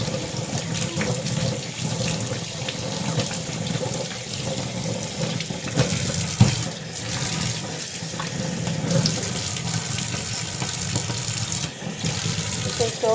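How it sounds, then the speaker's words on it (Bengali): Running tap water splashes steadily into a sink as fish are rinsed clean, a continuous close wash of flowing water with no talking. "এই যে মাছগুলো এখন আমি ধুয়ে নিচ্ছি"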